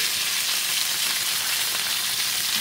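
Chicken browning in a Lodge cast iron pan, a steady, even, hissing sizzle of frying that stays at constant loudness throughout, with no talk.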